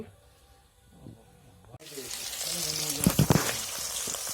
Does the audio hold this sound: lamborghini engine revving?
no